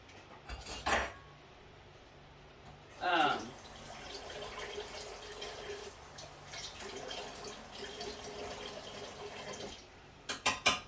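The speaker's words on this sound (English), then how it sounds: "I had to rinse off my knife there." A kitchen knife rinsed under a running tap at a sink, with a steady stream of water, brief clinks of metal and dishes at the start and end, and some faint talk.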